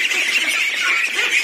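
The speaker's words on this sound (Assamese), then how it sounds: "ইয়াৰ টোটেল 184টা হাঁহৰ পোৱালি আছে" Ducklings in a large flock of about 184 call together in a dense, continuous chorus of high, shrill peeping, close and loud, with no talk.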